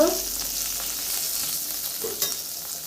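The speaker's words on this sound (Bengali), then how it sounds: "এই টমেটোগুলো হালকা একটুখানি ভেজে নিই" Cut tomatoes fry lightly in oil with a steady, close sizzling hiss that stays even throughout, with a couple of faint knocks from stirring.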